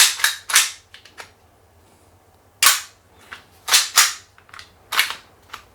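An air pistol fires roughly nine sharp, snappy shots in uneven bursts with short gaps between, each crack close and loud over a faint low background hum.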